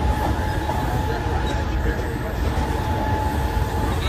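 Inside a moving commuter train bound for CST, a loud, constant rumble of wheels on track with rattling carriage noise and a faint high whine throughout.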